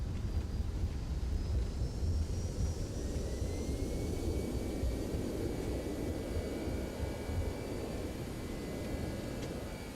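Thrust reversers of an Airbus A321neo on landing in the X-Plane 12 flight simulator, a loud continuous engine roar with a faint whine above it that eases slightly toward the end.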